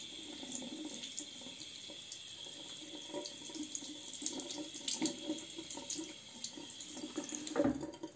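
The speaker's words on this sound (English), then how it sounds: "now since it is rinsed, I will just re-wet the brush a little bit" Running tap water splashes steadily over a shaving brush as it is rinsed at a bathroom sink, a continuous close hiss with small shifts in flow, ending in a brief heavier splash.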